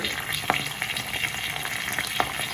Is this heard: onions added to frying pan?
yes